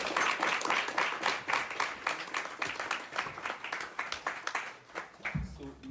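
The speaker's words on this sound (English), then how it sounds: "please join with me in welcoming His Grace Chaitanya Charan Pr by giving him a round of applause" An audience at an ISKCON Boston volunteer appreciation feast welcomes a speaker with steady, fairly close applause. The clapping holds through the whole stretch and thins slightly toward the end.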